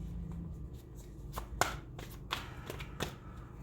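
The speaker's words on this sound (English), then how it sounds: "I love these cards so much. The art is beautiful, but it's really hard for me to shuffle them." Tarot cards being shuffled, a series of soft irregular riffles and taps at close range over quiet background, with no voices.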